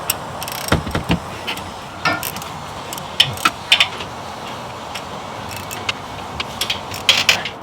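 Wrench tightening bolts on the AC compressor of a fourth-generation Toyota 4Runner with a 4.7L V8, a series of sharp metallic clicks and ratcheting bursts, close and irregular over quiet shop background.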